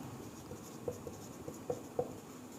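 Pen strokes write a medical term for a CT scan explanation, giving faint, soft scratching with a few light taps as letters form. It is quiet and steady, with no one speaking.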